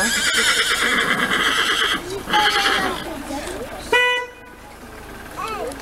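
Horses whinny loudly several times, with hooves clopping, a car horn tooting and people chatting nearby.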